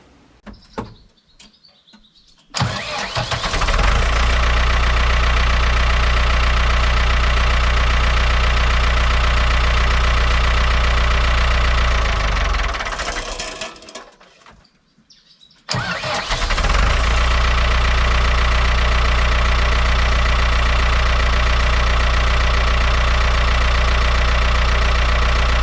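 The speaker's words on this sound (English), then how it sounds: "that tiny 15+ year old Halfords battery just started this tractor" A tractor engine, started on a small Halfords battery more than 15 years old, cranks and catches, runs loudly for about ten seconds, nearly dies, then is restarted and settles into a steady, loud running drone.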